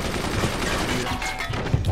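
Cannon fire in a video game arrives as a dense, continuous barrage of rapid blasts lasting the full two seconds, loud and steady, with no talk over it.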